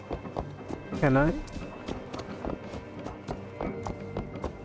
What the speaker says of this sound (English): let me jump off the horse